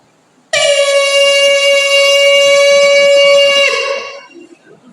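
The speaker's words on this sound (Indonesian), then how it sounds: "Sirine." A siren sounding for imsak, the pre-dawn fasting time, gives one loud, steady tonal blast held for about three and a half seconds. It then fades out with no talking over it.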